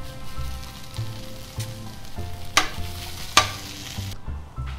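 Meat and plantain frying in a pan for Peruvian seco, a steady loud sizzle with repeated scraping stirs and a couple of sharp utensil knocks against the pan, no voices.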